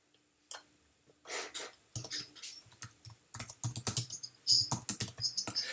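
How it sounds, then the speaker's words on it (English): Rapid, uneven clatter of keys on a computer keyboard, close and fairly loud, running in bursts with short pauses and no talking over it. "Can you see as I'm typing, this thing's moving"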